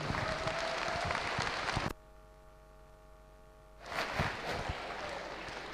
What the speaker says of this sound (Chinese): 现在热烈的掌声送给各位中六生和校长